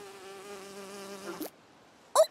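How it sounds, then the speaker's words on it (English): A cartoon bee buzzes in a steady, fairly loud drone for about a second and a half, then cuts out, followed by a brief high chirp near the end. "I believe she's a bee."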